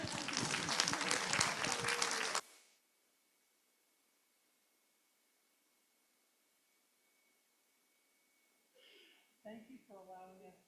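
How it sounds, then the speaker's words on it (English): Indoor church service audience applauds at a sermon gathering: a dense burst of clapping for about two seconds that stops abruptly, followed by near silence and then a voice starting to speak. "And now you may clap."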